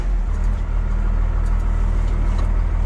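A loud Jaguar car with a manual gearbox, driving on aired-down tires, gives a steady, deep engine drone with rough low rumble and road noise. It is close and continuous, with no talking.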